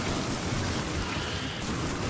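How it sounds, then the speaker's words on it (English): Acid rain pours down steadily in the video game Factorio as a dense, unbroken hiss of heavy rainfall that stays constant throughout. "it's currently raining a lot."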